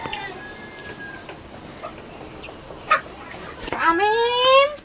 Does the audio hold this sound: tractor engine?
no